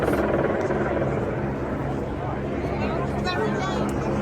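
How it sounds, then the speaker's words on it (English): Police helicopters flying overhead during a tractor protest in London, a steady broad rotor drone filling the whole stretch at moderate distance, mixed with crowd babble and street noise. "We got 2 choppers now."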